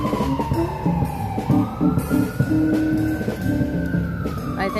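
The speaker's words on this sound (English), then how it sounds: "I think that's my ambulance." A siren sweeps slowly through a busy New York City street as an ambulance passes, rising and falling over a dense mix of traffic and honking horns.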